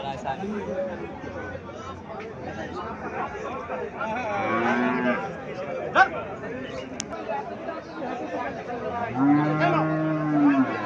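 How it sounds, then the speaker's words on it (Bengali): A Sahiwal cow at a cattle market moos twice, long low calls spaced several seconds apart, amid people chattering nearby. "এখানে আর একটা গাভি দেখা যাচ্ছে সাইওয়াল জাতের গাভি"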